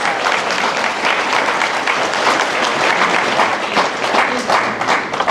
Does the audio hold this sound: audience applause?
yes